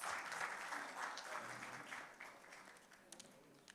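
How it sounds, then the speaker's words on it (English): Audience applause at the Invest Kerala Global Summit 2025 during a marine sector session, a sustained wash of many hands clapping that fades slightly toward the end with a few last isolated claps. "Let's give them a warm applause."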